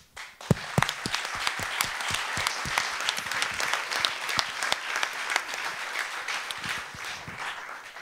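An audience at a design conference panel breaks into applause after a presentation, a few sharp opening claps swelling into dense, sustained clapping that tapers slightly near the end.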